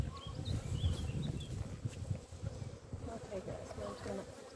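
Honeybees buzzing around an open beehive during a hive inspection, a low continuous drone with overlapping wingbeats close by, with faint handling noises and a few brief higher tones above the hum.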